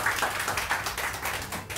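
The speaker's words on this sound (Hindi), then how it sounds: "Ladies and gentlemen, put your hands together for Dr. Irshad." Studio audience applauding on a Pakistani morning talk show, a dense continuous patter of many hands clapping at a moderate distance, steady throughout with no voices.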